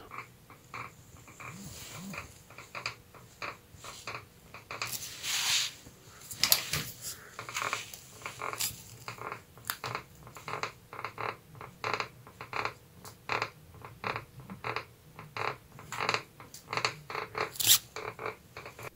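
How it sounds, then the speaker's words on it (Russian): Cracked frame of a Sarma Foka fatbike creaking as the bike is lifted and carried right after a ride, a run of short, sharp, irregular creaks and clicks close by, repeating steadily over the whole stretch with no talk. "Сразу после заезда, когда велосипед заносишь, подсидел, вот так вот скрипит."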